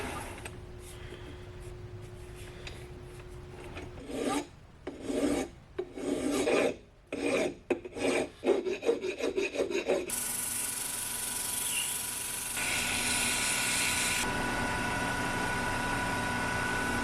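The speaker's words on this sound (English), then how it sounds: "I ended up having to run through all the grits of sandpaper, Scotch-Brite to make it look decent" Sandpaper and Scotch-Brite worked by hand over a welded steel part for a Honda Shadow 750 chopper, rasping in uneven bursts mid-clip, then giving way to a steady, bright hiss of continuous abrasion.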